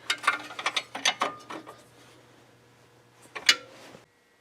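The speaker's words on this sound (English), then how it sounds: "I don't have my socket, so I'm just going to use this wrench to get it started" Wrench ratcheting a castle nut onto an outer tie rod end of a 1998 Subaru Outback, a quick series of close metallic clicks, a pause, then another short burst of clicks.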